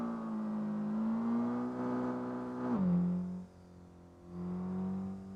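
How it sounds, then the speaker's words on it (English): A racing video game car engine, a Toyota AE86 driven on a touge mountain road, revs steadily with a smooth rising note, then drops away abruptly and settles into a lower hum, fairly faint. "listen to that engine."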